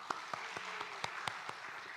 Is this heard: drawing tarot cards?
no